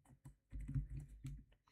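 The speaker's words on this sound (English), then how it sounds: "what am I typing?" Fingers type on a computer keyboard in short bursts of soft clicks and thumps, close but quiet, with brief pauses between keystrokes.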